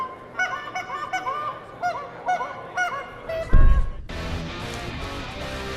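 Canada geese honk repeatedly and close by during an early-season goose hunt on Sandy Pond near Sandy Creek, New York, their overlapping calls followed by a sudden loud burst and a rush of broadband noise.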